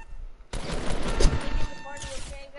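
Bursts of video game gunfire during a multiplayer shooter match, a dense fusillade of rapid shots running for about two seconds, with a voice briefly audible near the end.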